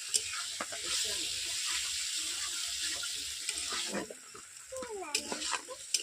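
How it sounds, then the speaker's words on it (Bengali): Pieces of country chicken for curry sautéing and sizzling in a pan, with a steady frying hiss under repeated stirring scrapes and clinks, close and fairly loud throughout. "এইভাবে আমি চিকেনগুলোকে দশ মিনিট কষে নেব দশ মিনিট ধরে"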